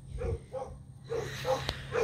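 A young puppy gives several short, close barks and yips in a quick, uneven series, performing a speak trick.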